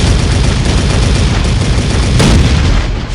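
Field cannons firing in the Attack on Titan anime, a dense, continuous barrage of loud booming blasts with a heavier surge near the end and no voices.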